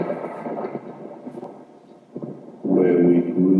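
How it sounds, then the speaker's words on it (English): Booming thunder sound effect: a broad, rolling rumble that lasts throughout, dips slightly in the middle, then swells louder and fuller near the end. "booming thunder radio"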